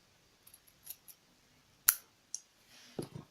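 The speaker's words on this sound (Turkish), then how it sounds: "Orayı makas yardımıyla şimdi kesiyorum." Scissors snip paper in a few short, sharp cuts, sparse and close, with quiet pauses between them and no talking.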